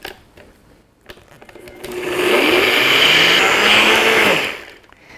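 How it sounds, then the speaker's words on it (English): A NutriBullet blender grinds old-fashioned oats into flour, its motor spinning up into a loud, close, high whirring roar that holds steady for a couple of seconds, then winds down, with a few light clicks before and after. "I'm going to simply screw it into the motor and let it run for a few seconds"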